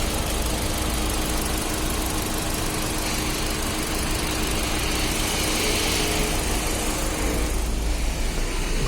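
A Hyundai 1.2 Kappa VTVT petrol engine with about 300,000 on it runs steadily at idle, giving a constant loud mechanical hum and rattle with no change in pace and no talking.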